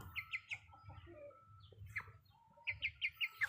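Chickens cluck in quick bursts of short calls, close by, with quieter pauses between and low rustling underneath.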